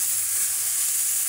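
Grated carrot halwa sizzles in a pan of hot ghee as it is stirred, giving a steady, close, bright frying hiss with no talking.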